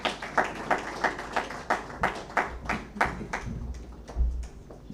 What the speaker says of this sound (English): Let's clap properly.